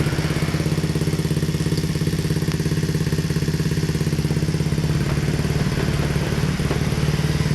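Honda Beat carbureted motorcycle with a bobokan exhaust, engine running with a steady low-pitched putter and rhythmic firing pulses, close and loud throughout without talk.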